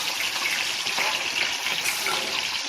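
Fish frying slowly in oil on a low gas flame, a steady, even sizzle that hisses continuously at close range with no breaks or talk.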